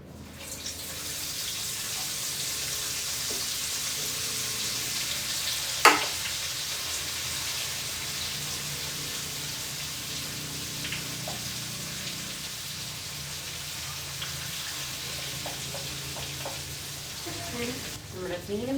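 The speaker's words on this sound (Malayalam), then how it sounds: "നമ്മുടെ മീനും പൊരിക്കാനിട്ടു." Fish sizzles in a pan in a home kitchen, a steady, fairly quiet hiss of hot oil held for the whole stretch, with one sharp clatter early on and a few faint knocks and clinks toward the end.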